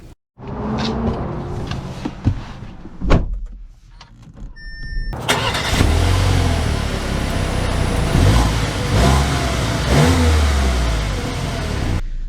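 A 2024 Audi Q3 compact SUV starts up after a few clicks and thumps, then its engine hums and revs steadily as it pulls away and drives, a continuous close mid-pitched drone with mild rises in pitch.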